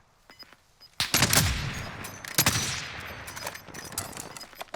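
Automatic gunfire in the Warzone battle royale game, a few faint distant shots and then two loud, close bursts of rapid fire, with scattered shots trailing off afterward.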